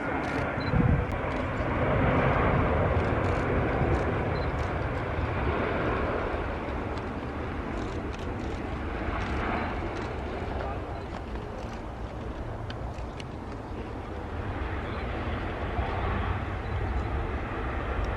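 A Qatar Airways Airbus A350 lands in gusty wind at Manchester Airport, a distant, steady jet roar that swells and fades slightly, with faint radio chatter at times.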